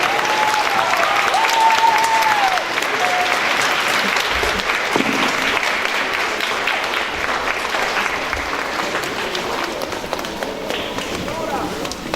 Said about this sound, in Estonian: Palun suure aplausi.